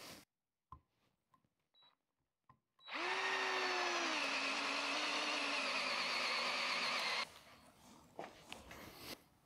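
A Parkside 20V limited-edition cordless drill-driver bores with a 25 mm single-flute bit: a few faint clicks, then one loud, close, sustained whine and grind of about four seconds that cuts off abruptly.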